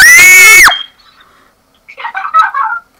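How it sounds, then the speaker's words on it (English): A loud, sharp human scream during a Fortnite match while being shot at by a hunting rifle, cutting off abruptly, followed by quieter game sounds after a short silence. "you gotta scream if you're getting shot at by a hunting rifle"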